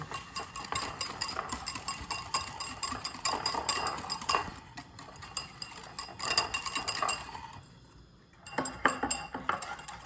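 Egg yolks mixed with sugar in a bowl for a Kyiv cake, a steady run of utensil scraping and clinking against the bowl, close and continuous with a brief pause near the end.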